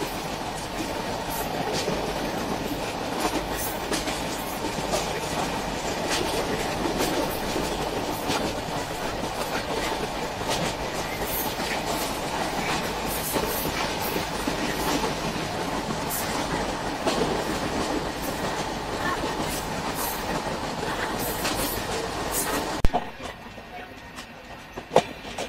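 The Sundarban Express rumbles along the rails toward Jessore: a steady, dense roar of wheels and carriage rattle with faint clicking, heard from inside and nearly constant until it suddenly drops near the end.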